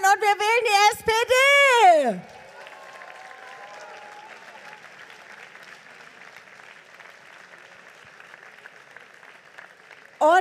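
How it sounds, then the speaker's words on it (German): Crowd applause at an SPD election rally in Hannover, a loud voice at first, then a long steady wash of distant clapping from a large audience before the voice returns. "ich würde euch bitten, dass ihr jetzt noch mal einen riesen Applaus macht"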